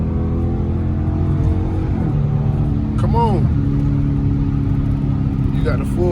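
A Dodge Scat Pack's V8 engine rumbles steadily and loud from inside the car, with a brief rising rev blip as it downshifts midway, over continuous road noise.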